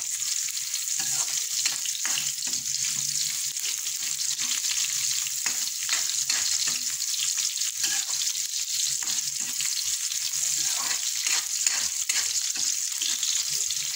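Onion stirred and fried in a pan for escabeche gives a steady, close sizzle with frequent crackles and light stirring scrapes, continuous throughout and with no talking.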